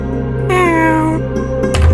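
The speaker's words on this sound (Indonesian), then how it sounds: "Sudah, pergilah wahai sang kucing." A cat lets out a loud, drawn-out meow close by, with a second shorter call following, over a steady background hum.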